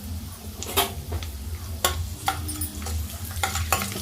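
Garlic, urad dal, mustard seeds and cumin fry in hot oil as a tempering for spinach, with a low sizzle beneath repeated sharp scrapes and taps of a spatula stirring in the pan, and nobody talking.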